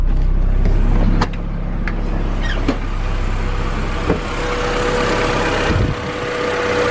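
Honda wagon engine idling in neutral after an OBD1 conversion and firing order fix, a steady low rumble throughout with a few brief clicks and knocks over it, close and fairly loud.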